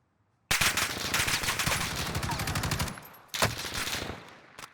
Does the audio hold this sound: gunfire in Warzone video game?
yes